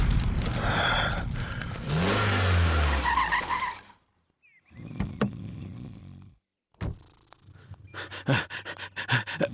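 A car brakes hard with a skidding tyre screech and engine noise, followed by quieter knocks and rustling as it comes to a stop.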